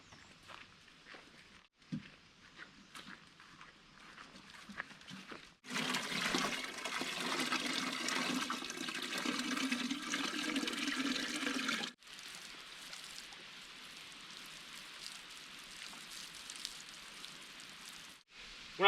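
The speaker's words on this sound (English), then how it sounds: "just dipping the 5-gallon stock pot in and filling this up takes like a minute" Water poured and splashing as a 5-gallon stock pot is dipped to fill barrels on an off-grid homestead, a steady rushing pour of several seconds followed by softer trickling.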